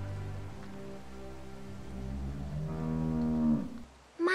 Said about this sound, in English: Let's have a look at the cow. Hey, cow.